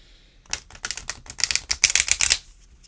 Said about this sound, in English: I'm going to try to get 3 of these shuffles out of here